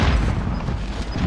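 A frag grenade goes off in Call of Duty as a loud, low rumbling blast, with dense booming continuing through the short moment and no clear speech.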